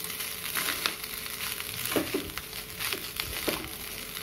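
Coconut rice is stirred and folded in a hot pan, giving a continuous frying sizzle broken by repeated scraping strokes of a spoon against the metal; no talking.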